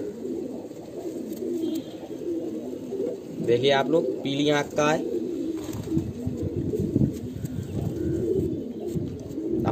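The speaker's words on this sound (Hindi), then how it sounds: "ये कलदुआ पिलंगा का कबूतर हमने पकड़ा है" A Kaldua Pilanga pigeon gives a short run of throaty coos close by while someone talks over it.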